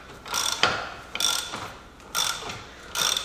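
A ratcheting spring compressor tool clicks in four repeated bursts as it tightens on the front suspension spring of a Jaguar S-Type, close and clear with short pauses between strokes.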